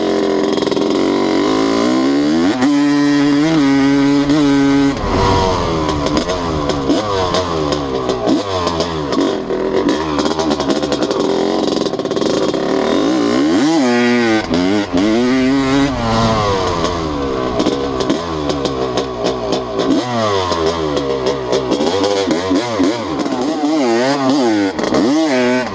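A Honda CR250 two-stroke dirt bike on a muddy track, its engine screaming and revving hard in rising and falling bursts, loud and close, without pause throughout.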